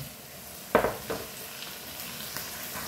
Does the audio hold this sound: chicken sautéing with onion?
yes